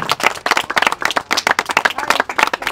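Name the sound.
crowd applauding at stadium inauguration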